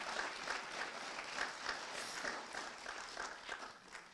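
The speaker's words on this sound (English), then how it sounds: "give all yourselves a big round of applause as well for supporting them" Applause from a graduation ceremony audience, a continuous wash of many hands clapping at a moderate distance, fairly soft and even.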